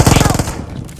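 Rapid automatic gunfire in the mobile battle royale game BGMI: a dense, loud burst of fast repeating shots lasting about a second, fading slightly toward the end.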